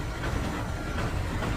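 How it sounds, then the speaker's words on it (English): White train rolling along rails over a small mountain, a steady rumbling clatter with soft rhythmic clicks, continuous and moderately loud throughout. "It's the train is going."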